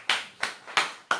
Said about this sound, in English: I give you another clap